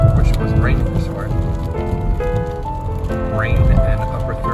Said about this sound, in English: Wish it wasn't raining this hard.